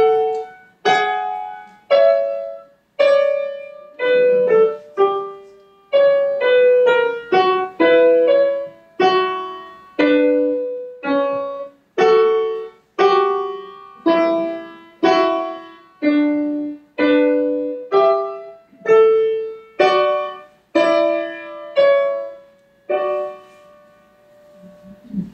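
Solo piano plays a two-voice passage from Bach's Well-Tempered Clavier, a steady stream of clear, close notes whose intervals shift between dissonance and consonance, with no talking.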